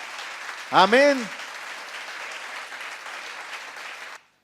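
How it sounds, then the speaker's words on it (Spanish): A church congregation at a Sunday service bursts into loud, sustained applause that carries on steadily for about four seconds before stopping abruptly, with a voice calling out briefly near the start. "Dele ese fuerte aplauso a él."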